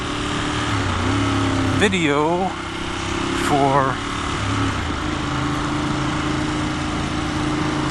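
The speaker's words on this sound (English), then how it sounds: "just to see how the sound is with this exhaust" A 2017 Ducati Monster 1200 R with a Termignoni exhaust idles with a deep, lumpy burble and gets two quick throttle blips that rise and fall sharply, heard close under someone talking.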